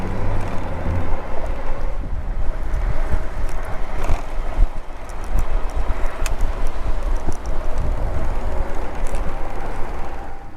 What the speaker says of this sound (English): It is very windy today